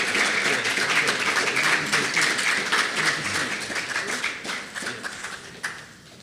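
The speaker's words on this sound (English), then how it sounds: "give him some encouragement and a round of applause" Applause from an audience at a project launch ceremony in St. Kitts and Nevis, steady dense clapping that holds fairly loud, then thins toward the end with a few scattered individual claps.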